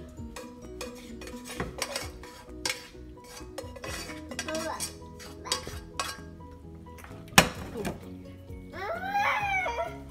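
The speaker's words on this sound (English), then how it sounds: "now that our cheese sauce is all ready to go, we are just going to stir in our macaroni" A spoon stirs macaroni into a cheese sauce in a pot, giving repeated clinks and scrapes against the metal, with one sharp clank and some light voices partway through.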